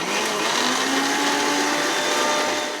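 An electric mixer grinder whirs steadily as it grinds curry ingredients with water for chicken curry, a loud, even, high-pitched motor drone that runs unbroken and close by with no talking.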